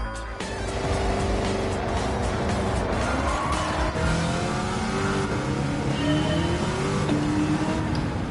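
Gran Turismo 7 game audio of a Plymouth Superbird with a swapped Hellcat engine, revving hard while the rear tires break loose and squeal, loud and continuous throughout.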